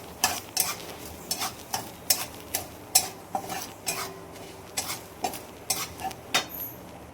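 Dry coconut roasting with curry leaves in a pan: a steady run of scraping, clinking stirring strokes against the pan every half second or so, close and fairly quiet, with a faint dry crackle underneath and no voices.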